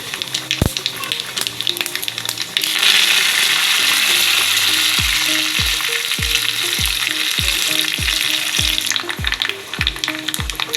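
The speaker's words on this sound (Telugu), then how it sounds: "కొంచెం మెంతులు, జీలకర్ర, ఆవాలు, కరివేపాకు, ఇంగువ వేసి వేయించుకుందాం." Tempering of fenugreek, cumin, mustard seeds, curry leaves and asafoetida, with garlic and dried red chillies, frying in hot oil for Telugu amaranth buttermilk curry: a loud, steady sizzle that swells partway through, with repeated sharp pops and crackles of seeds spluttering.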